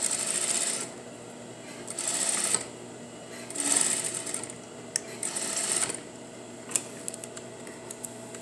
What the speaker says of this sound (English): So we're just gonna sew that along that edge.